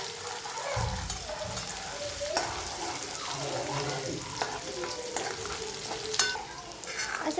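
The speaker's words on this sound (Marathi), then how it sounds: "असं छान पद्धतीने त्याला फ्राय करून घ्यायचं." Chicken pieces for biryani fry in a hot pan while being stirred, a soft continuous sizzle broken by scraping and clattering of the spoon against the pan, close and moderately loud, with some running-water sounds.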